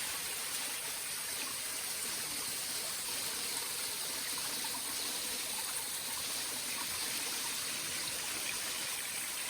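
Steady rushing water from a waterfall in a fern-lined rock setting in Ventura County, California, with water pouring out of a hole in the rock; a constant, broad, close wash of sound with no talk.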